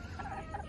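Chickens or other fowl in a brushy rural spot give a short burst of gobbling, clucking calls, a few wavering notes over steady low background rumble.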